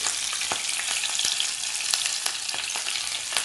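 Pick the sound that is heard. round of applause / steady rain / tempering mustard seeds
tempering mustard seeds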